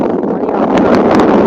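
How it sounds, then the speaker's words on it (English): Outdoors on a windy day, wind blows across a microphone as a loud, steady rushing roar with a few brief crackles, and there is no clear talk. "I know it's windy, y'all"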